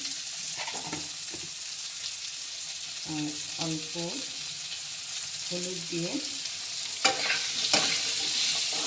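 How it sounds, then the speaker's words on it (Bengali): Steady sizzling of potatoes frying in a pan runs throughout, with someone speaking briefly over it and a few scraping stirs near the end. "আলুটাকে ভালো করে ভাজা ভাজা করে নেব"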